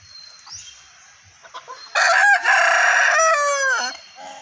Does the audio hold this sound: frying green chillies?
no